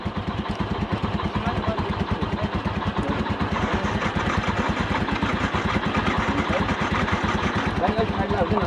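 A motorcycle engine with a battery problem idles after starting in snow, giving a steady, close, rhythmic low chugging throughout, with some speech over it.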